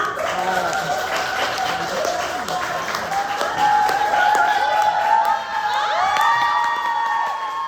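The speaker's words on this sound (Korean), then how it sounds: "여러분의 큰 박수 부탁드립니다" An audience at a live member-introduction event applauds and cheers, sustained clapping with excited shouts and whoops rising over it and a few voices calling out.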